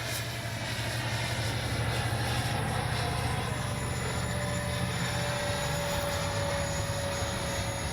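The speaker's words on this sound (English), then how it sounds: "All right, takeoff flaps. Here we go." An Arrows 64mm EDF MiG-29 RC model jet with takeoff flaps set, taking off, its ducted fan giving a loud, continuous whooshing whine throughout.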